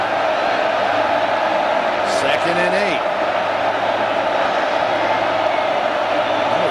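A sellout stadium crowd of about 82,000 at an Oklahoma college football game, a steady wash of massed noise with a brief rising shout, under a play-by-play announcer talking.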